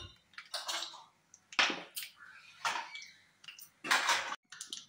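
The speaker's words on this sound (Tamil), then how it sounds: "நல்லா எண்ணெய் காஞ்சதும் கடுகு, கொஞ்சம் ஜீரகம், சும்மா ஒரு 4-5 வெந்தயம். இது நல்லா பொரியட்டும் நமக்கு." Mustard, cumin and a few fenugreek seeds splutter in hot oil, close up, in irregular bursts of sharp crackling pops separated by brief quiet gaps, with no voices.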